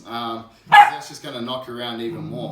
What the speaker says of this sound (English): Sorry about the dog barking in the background, it's just our little puppy